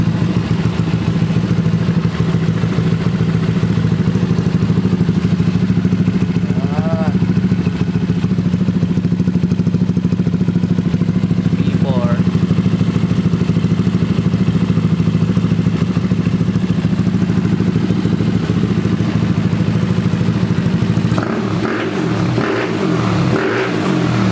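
Loud Yamaha Mio Sporty scooter engine with a JVT V4 Shark tip exhaust pipe idling steadily with a deep rumbling exhaust note, a couple of brief throttle blips, then clattering at the end.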